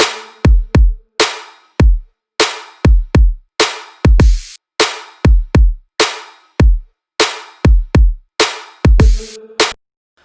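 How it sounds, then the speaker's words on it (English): An electronic dance drop's drum pattern: punchy kicks with deep sub tails and sharp snares in a steady, driving rhythm, loud and upfront with no vocals or talking. "So the drums sound like this."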